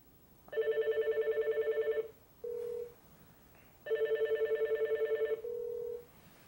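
An Alcatel-Lucent 8028s desk phone on an OXO Connect system places an automatic call to an extension, and two ringback bursts follow, each a buzzing pulsed tone and then a short steady tone, clear and close.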